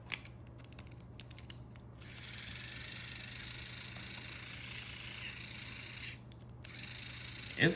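A small black-motored Tomy Thomas toy train motor whirs steadily up close, a thin buzzing mechanical drone that runs for several seconds with a few clicks and clatters at the start and end.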